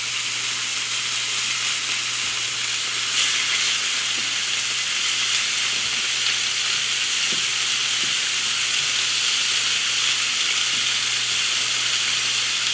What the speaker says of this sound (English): I'm gonna put the rest of this in here so we can saute up.